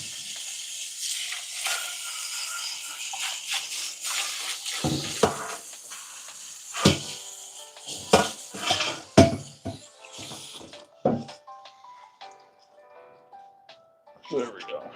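Someone rinses a pot while making bone broth, with running water hissing in bursts, clanks of metal cookware, and intermittent splashes and pauses. A person talks briefly between the rinsing noises.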